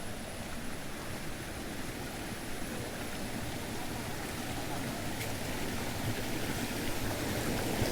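Palur Kotta waterfall running at low flow gives a steady, even rush of falling water, heard continuously at moderate distance without any voices.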